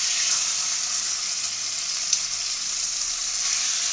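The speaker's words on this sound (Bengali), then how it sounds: "তেলটা গরম হলে এবার আমি এখানে চিকেনটা দেব, কুক করে নেব" Chicken fries in hot white oil with a steady, bright hiss, close and even throughout, broken by one tiny pop.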